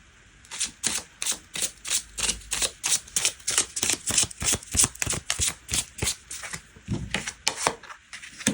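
Tarot cards being shuffled and drawn: a quick, steady run of crisp riffling snaps close by, repeating for several seconds with no talk.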